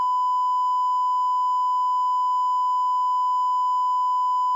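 One continuous, steady high-pitched censor beep, clean and unbroken, holding at the same loudness throughout.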